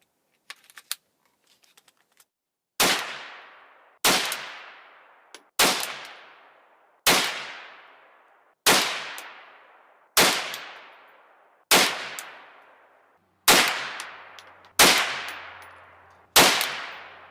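A .22 WMR rifle fires Hornady 30 grain VMAX ammunition, ten sharp shots at a slow, even pace, each ringing out and decaying, with a few faint clicks of handling before the first shot and no talk.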